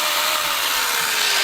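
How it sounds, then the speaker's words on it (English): A beam cutter saw, a chainsaw-like tool, bites through a wooden beam in a backyard build, giving a loud, continuous buzzing cut whose pitch sinks slowly as the blade works deeper. "Love that saw, baby. Beam cutter."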